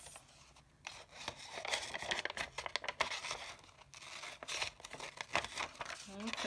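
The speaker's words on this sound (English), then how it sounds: "I'm going to go ahead and cut on the zigzag lines." Scissors snip and crunch through paper along zigzag lines, a run of close, uneven cuts with crinkling and rustling as the sheet is turned, with a voice speaking over parts of it.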